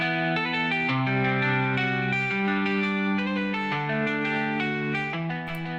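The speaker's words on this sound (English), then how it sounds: "So right now I have this guitar loop that sounds like this" Electric guitar loop played through a Soothe resonance-suppression plugin, with sustained chords and melodic notes ringing in a steady, effects-laden wash that stays loud and continuous, with no voices.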